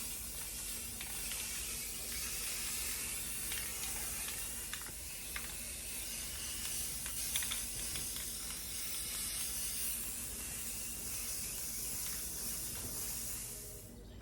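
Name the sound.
spray priming 1972 VW Super Beetle parts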